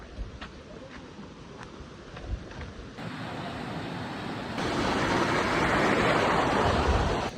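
A waterfall at Khatkali by Popatkhed Dam gives a steady, broad roar of rushing water that swells louder toward the end, with wind buffeting the microphone and no talking.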